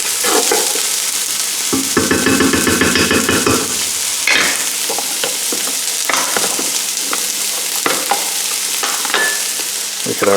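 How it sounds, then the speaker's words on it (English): Chopped onion sizzling and frying in a pan for chicken fajitas, with steady crackle and occasional stirring scrapes throughout, close and fairly loud, no talking. "we're going to let that fry off for a minute or two"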